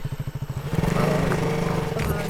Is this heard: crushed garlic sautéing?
no